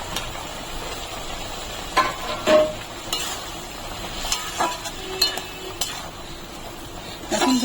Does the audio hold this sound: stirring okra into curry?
yes